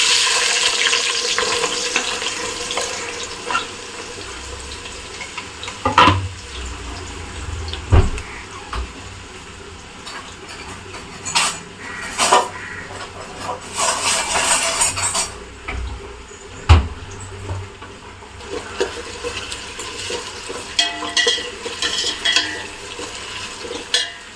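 Sliced onions added to hot oil with whole spices for seeraga samba chicken biryani: a continuous frying sizzle with repeated clanks and scrapes of a ladle against the pot, fairly close and without talk.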